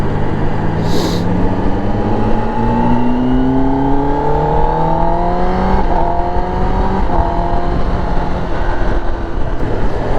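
A 2022 Kawasaki ZX10R sport motorcycle engine accelerates hard, its loud whine rising steadily in pitch through the gears with brief dips at each shift, sustained and close throughout.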